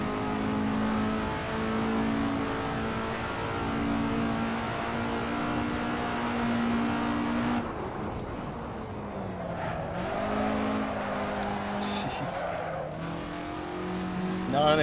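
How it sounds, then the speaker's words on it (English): Race car engines droning steadily in Assetto Corsa, a Lancia HF and Alfa GTA on track, pitch shifting as the car slides into an unintended drift with tyre noise, then climbing again under acceleration. "Non-intentional drifting."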